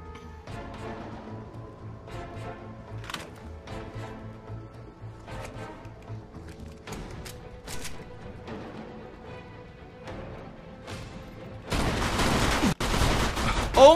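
Gunfire crackles in the Mafia 2 video game as a string of sharp shots rings out at irregular intervals. A loud, dense burst of noise takes over near the end.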